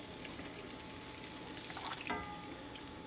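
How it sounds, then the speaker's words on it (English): Butter sizzles quietly in a pan while being stirred constantly, a soft continuous frying hiss with light scraping and a brief clink near the end, faint and close with no voices. "just constantly mix up your butter because you don't want it to burn"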